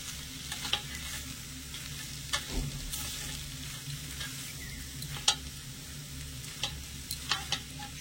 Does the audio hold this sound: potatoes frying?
yes